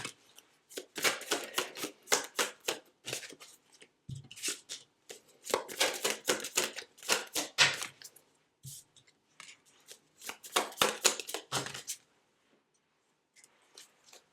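A deck of tarot cards is shuffled by hand in quick bursts of riffling and flicking, close and crisp, with short pauses between rounds and a quiet stretch at the end.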